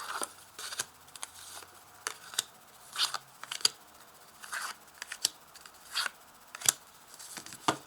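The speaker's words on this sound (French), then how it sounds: "je vais ajouter des cartes de l'oracle des miroirs dessous" Oracle cards from a mirror-themed deck handled and laid down, a run of close, soft papery taps and slides at an uneven pace over several seconds, with no talking.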